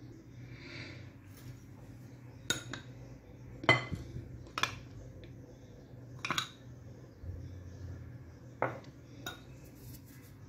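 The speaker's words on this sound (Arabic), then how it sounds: "ما نديرش الدقيق كله دقه واحده، غير بشويه بشويه نخلطه حتى نحصلوا على القوام اللي بغينا" Flour is worked gradually into cake batter for a simple, economical homemade sponge, giving sparse, irregular clinks and taps of a utensil against the bowl over a quiet background, with no talking.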